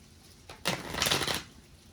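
A short burst of cards being shuffled, a quick riffling flutter lasting about a second, close and fairly loud.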